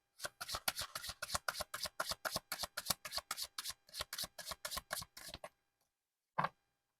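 Tarot cards are shuffled in a quick, steady run of crisp riffling slaps for about five seconds, followed by silence and one last soft card snap.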